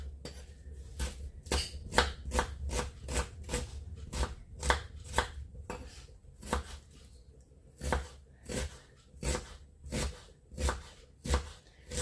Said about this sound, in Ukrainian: Грубу частинку цибульки я вирізаю